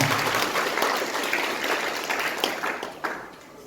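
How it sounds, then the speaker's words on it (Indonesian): Church congregation applauding at an online Easter worship service in Jakarta, a steady wash of clapping filling the room for several seconds, then tapering slightly near the end. "Beri tepuk tangan yang meriah"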